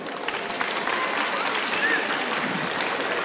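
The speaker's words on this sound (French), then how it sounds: "Elle a 14 ans, elle s'appelle Sonia, on peut l'applaudir." An audience claps steadily through the whole stretch. The applause stays moderately loud and even, with a faint voice or whistle briefly audible within it.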